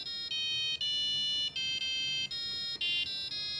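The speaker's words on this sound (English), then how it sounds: "mostly just to create short beeping sounds" A series of shrill electronic buzzer beeps from an Arduino UNO learning shield, close and steady, each tone held about half a second with brief gaps and slight pitch changes between them.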